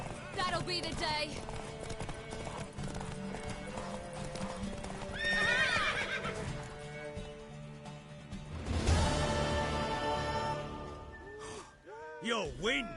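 A horse gallops with steady clip-clopping hooves and gives loud neighs and whinnies in The Witcher game, alongside music and speaking voices.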